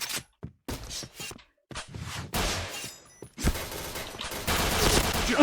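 Gunfire in the Point Blank shooter video game on the Midtown map: sharp rapid bursts and single shots, loud and close, with short gaps of silence between volleys.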